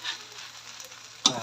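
Fried rice and a pork chop stir-fry in a pan, with a steady close sizzle and a sudden louder crackle near the end as the food is moved.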